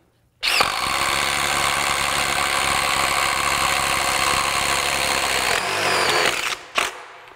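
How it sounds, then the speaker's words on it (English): A DeWalt impact wrench hammering on a bolt makes a loud, continuous rattling buzz for about six seconds, stops briefly, then gives one short final burst. "Let's see how the DeWalt does."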